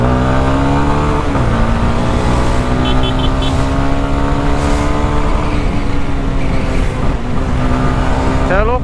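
A Honda CB Twister 300F motorcycle revs its engine repeatedly, loud and close, the pitch climbing and falling in sustained surges over several seconds, with a voice talking over it.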